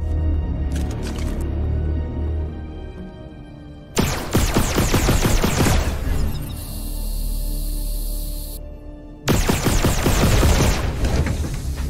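Bursts of gunfire shooting down turrets in the VR game Red Matter 2, dense loud volleys in two main stretches with a humming, whining mechanical tone between them, no voices.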